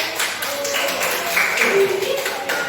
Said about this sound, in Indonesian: Ya, yuk, beri tepuk tangan.